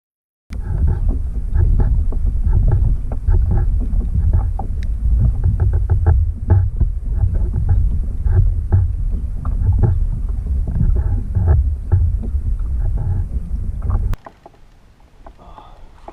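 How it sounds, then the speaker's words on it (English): Strong wind buffets the microphone while kayak fishing at sea off Hawaii, a loud continuous roar with gusty rumbles and small knocks, dropping abruptly near the end; no talking. "Wind's starting to pick up."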